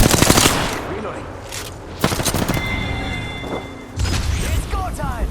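Rapid bursts of automatic gunfire in the Apex Legends shooter game, loud and close, broken by short pauses, with in-game voices and effects mixed in.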